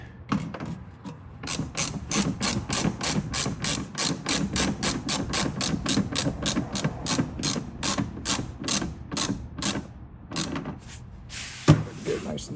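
Socket ratchet tightening a fastener on a wheel well liner of a 2025 Ford F-150, a close, fast, even run of ratcheting clicks lasting about ten seconds, with talk in the background.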